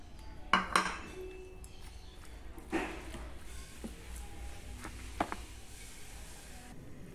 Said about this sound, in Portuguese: agora vou misturar aqui, ó, tomate, cebolinha e cheiro verde